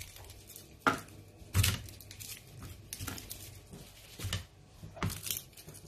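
Garlic cloves being peeled by hand, their papery skins pulled away in several sharp crackling tears and rustles, with quieter handling between them and no talk.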